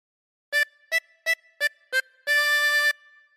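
A 24-hole tremolo harmonica plays Oh Susanna notes alone: five short, evenly spaced blows followed by one longer held note, clear and close with a bright, reedy tone.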